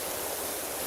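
A steady, broadband hiss of water spraying from a pressure washer in PowerWash Simulator, continuous and even throughout with no breaks.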